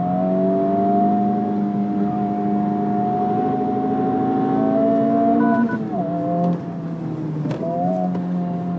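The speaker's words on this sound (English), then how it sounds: "We're powered by a turbocharged inline 4-cylinder," Turbocharged inline four-cylinder in a 2023 Honda Civic Type R FL5 pulling hard around a track, a steady rising engine drone that climbs, lifts briefly for a shift or corner near the end, then resumes, loud and close with no talk.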